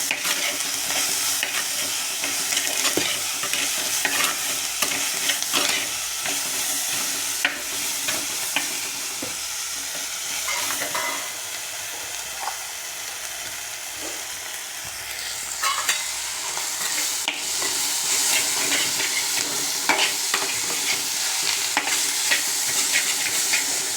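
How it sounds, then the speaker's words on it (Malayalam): Spiced sardine curry with salt stirred in a pan, with loud steady frying sizzle and repeated close spoon scrapes and knocks throughout, no talking. "നന്നായിട്ട് ഇളക്കി ചേർക്കാം"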